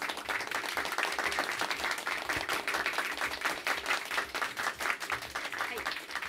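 An outdoor live audience near Tokyo Tower gives the band a round of applause. The clapping is steady and rhythmic with some crowd voices mixed in, and talk runs over it.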